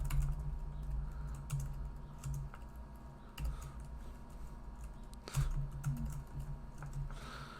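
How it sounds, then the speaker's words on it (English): Steady typing on a computer keyboard, close and fairly quiet, with irregular clusters of key clicks and a few heavier keystrokes over a low background hum. "Oh boy, typing."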